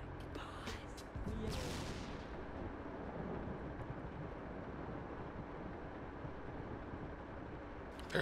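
Meme Launcher 3000 turret firing: a sharp blast and whoosh, then a long, steady roaring rumble that holds at a constant level, like a launch with wind noise on the microphone, with no talking.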